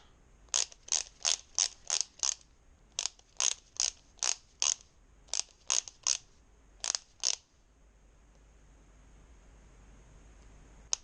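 Rapid ratcheting clicks of a torque wrench set to 192 inch-pounds tightening nuts during reassembly of a Kawasaki Z125 Pro motorcycle, coming in short bursts with pauses between, close and crisp, then giving way to quiet room hiss.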